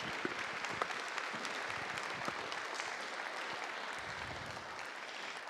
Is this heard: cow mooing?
no